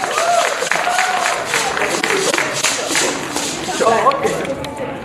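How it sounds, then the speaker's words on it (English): Audience applause at an Edo Language Day event, a dense wash of clapping from a crowd that holds steady throughout with speech-like sounds mixed in. "Please give a round of applause to him."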